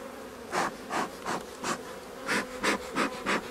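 Honeybees at an opened beehive buzz in repeated close bursts, about nine swelling passes as individual bees fly near, over a faint background hum and no speech.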